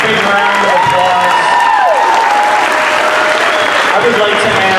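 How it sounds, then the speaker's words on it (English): A school assembly audience claps together in a broad, steady wash of applause that lasts throughout, with a few cheers and children's shouts rising out of it. "Can we give them a big round of applause?"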